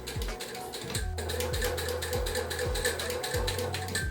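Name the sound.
sewing machine sewing corduroy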